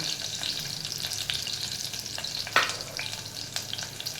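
Onions fry in a pan over a medium flame for paneer pulao, making a steady, close sizzle with scattered pops and one sharper stir or clatter near the middle. No voices are heard.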